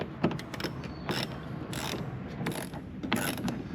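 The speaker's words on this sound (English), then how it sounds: "a 7mm is going to remove this bolt that's holding on this lower air dam" Ratchet wrench with a 7mm socket turning out a bolt on the lower air dam of a 2019-2021 GMC Sierra, giving bursts of quick clicking pawl ratchets at close range, several short runs separated by brief pauses, with no talking.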